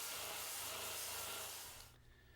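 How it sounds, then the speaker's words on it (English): A disc sander fitted with 80 grit sandpaper roughs up the underside of a copper sheet, giving a loud, steady abrasive whir that stops abruptly near the end. "we use a disc sander with some 80 grit sandpaper to rough up the surface on the bottom of the sheet"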